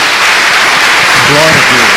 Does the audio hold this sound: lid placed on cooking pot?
no